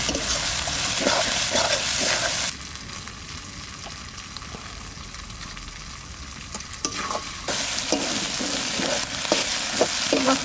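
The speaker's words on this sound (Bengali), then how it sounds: "মশলা কষানো হয়ে গেছে," Spices with turmeric fry in a pan for chicken curry, giving a loud, steady sizzle with repeated stirring scrapes; the sizzle drops quieter for a few seconds midway, then returns at full strength.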